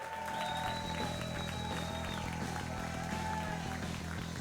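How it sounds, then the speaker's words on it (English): A crowd at a band's big gig in the Snoot Game video game applauds and cheers steadily throughout, a dense continuous wash of clapping with a few faint whistles and tones layered over a rhythmic musical backing. "The applause turns to cheers, and cheers turn to uproar"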